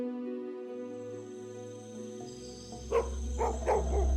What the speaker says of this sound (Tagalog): Nang bumangon ako ay bigla yung tumahol.